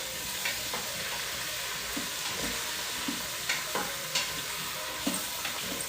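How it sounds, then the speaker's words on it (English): Food stirred and frying in a pan, a continuous close sizzle punctuated by repeated scrapes and taps of a utensil at an uneven rhythm, with no talking. "Let me stir this up a little bit more."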